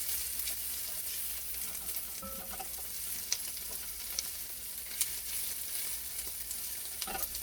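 Garlic frying in a pan for ratatouille, a steady close sizzle with faint stirring clicks throughout, no voices.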